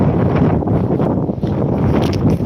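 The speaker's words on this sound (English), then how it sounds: "But it's quite windy" Steady wind roaring and buffeting close to the microphone on Withernsea promenade, a constant low rumble with gusty swells throughout and no voices.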